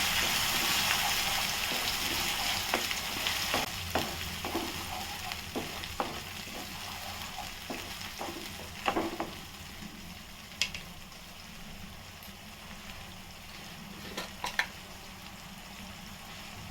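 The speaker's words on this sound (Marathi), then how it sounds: "आणि आपण हा जो मसाला बनवला ना तो टाकायचा तेला चांगली परतवून घ्यायची" Dum aloo masala sizzling and frying steadily in hot oil with cumin, a continuous crackling hiss broken by scattered scraping stirs from a spoon, close and fairly quiet, no voices.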